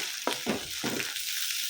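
Cut okra pieces mixed with salt frying in a pan with tempering spices and curry leaves, a steady bright sizzle broken by three quick scraping stirs early on, close and without voices.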